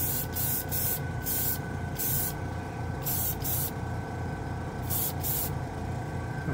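BEHR spray paint is applied to plastic in short hissing bursts, about six or seven spurts in uneven clusters, over a steady background hum.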